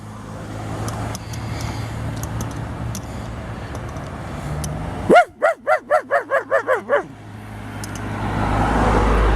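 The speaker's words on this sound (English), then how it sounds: "This is the traffic leaving Emory in the afternoon." Afternoon road traffic leaving town after a rainy day, with passing vehicles rumbling at moderate distance, a dog barking in a short run of rhythmic yelps midway, and a car swelling louder toward the end.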